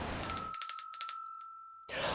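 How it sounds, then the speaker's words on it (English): A bell rings a few times in quick succession with bright, clear metallic tones, then its note hangs and fades over silence, framed by a narrator's voice telling a tale of a man lowered into a well. "he rang the bell after only a short distance"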